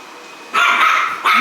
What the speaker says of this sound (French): Tara, qu'est-ce que t'as mon chien?